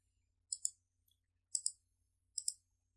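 Computer mouse clicks during work on a GitHub merge: three distinct double-clicks about a second apart, crisp and fairly quiet, with a single faint click between the first two, nothing else around them.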